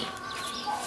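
A white hen clucking close by in a family yard, one brief burst of soft clucks over quiet background.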